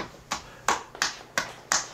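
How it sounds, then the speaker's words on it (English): Five quick, sharp hand claps in an uneven rhythm, close and fairly quiet, with no talk. "Oh, she about to clap."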